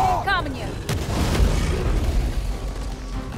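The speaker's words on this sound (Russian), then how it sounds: "Будет взрыв!" A heavy explosion in the video game God of War Ragnarök: a sudden low boom that rolls into a sustained broadband rumble and crackle of debris, loud and close for several seconds.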